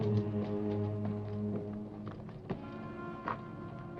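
Horse hooves clip-clop in a steady walking rhythm, fairly close, with a low sustained tone underneath and a couple of sharper knocks near the end.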